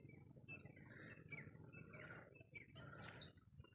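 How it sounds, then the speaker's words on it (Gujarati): Small birds chirp in a village mango orchard, soft scattered calls at first, then a brighter burst of sharp tweets near the end, all fairly faint and distant in a quiet outdoor setting. "પક્ષીઓ બોલે છે."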